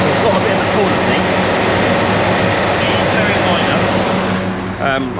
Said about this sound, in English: We also noticed the engine is running a little bit lumpy.